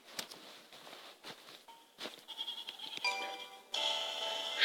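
A llama bleats in the snowboarding video game Alto's Adventure. A sheep-like, wavering cry swells near the end, after scattered light taps and clicks over quiet game ambience.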